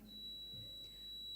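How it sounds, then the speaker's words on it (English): A quiz competition buzzer sounds as a single steady, high electronic tone held for the whole moment, fairly faint against a quiet room with no talk. "can you try your buzzer?"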